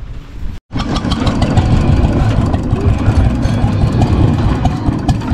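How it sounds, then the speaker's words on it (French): Old tractor engine brought to life by its electric starter at a vintage tractor gathering, a brief starter catch, then a loud, close, steady rumbling idle running on continuously. "Démarreur électrique comme vous avez pu le voir."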